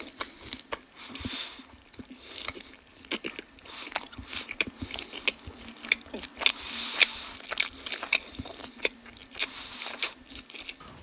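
Close crunchy biting and wet chewing on the last bite of a Little Caesars pizza, with irregular bursts of crisp crust crackle and jaw sounds over several seconds and no talking.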